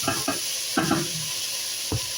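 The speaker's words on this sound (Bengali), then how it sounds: "ভালো করে একটু নাড়ায় নেবে, একটু ওইটাকে ভাজি করে নেবে" Coriander leaves frying in a pan, a few scraping stir strokes over a soft sizzle, close and fairly quiet, with no voices.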